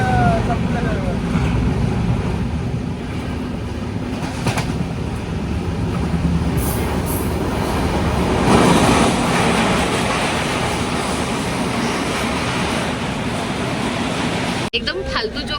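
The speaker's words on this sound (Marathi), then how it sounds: "सव्वा 8 झालेत अँड ट्रेन इज अराइव्ड." A train pulling into a station around quarter past eight, a continuous rumbling roll of wheels and carriages that rises slightly midway, with people talking over it nearby.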